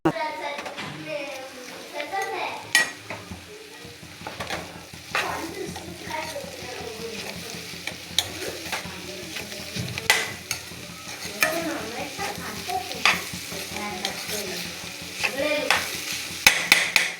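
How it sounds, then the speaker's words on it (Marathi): Jackfruit vegetable sizzles as it is stirred in a turmeric and red chilli tempering, with irregular scraping and stirring bursts, while someone talks and children's voices chatter in the background. "आता इथे भाजी छानपैकी परतून घेते"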